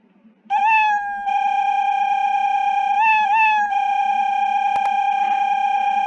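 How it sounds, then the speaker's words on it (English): A synthetic, sustained cat meow plays loudly as a Scratch sound effect, its pitch wavering in a few bends and held steady, with a faint low hum beneath. "you can control the cat's sound"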